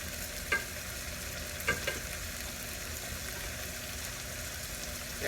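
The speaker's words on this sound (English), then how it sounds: "We got a nice roux working." A white roux of flour cooking in a pan gives a soft, steady sizzle, with a few brief scrapes from stirring.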